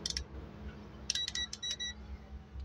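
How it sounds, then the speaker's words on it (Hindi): Multimeter set to continuity mode while checking a motor's alternator rectifier plate, giving a few short high beeps in quick succession over a low background hum. "ये वर्क कर रहा है, बीप की साउंड आ रही है"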